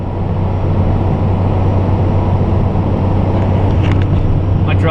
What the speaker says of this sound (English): currently on the highway and driving south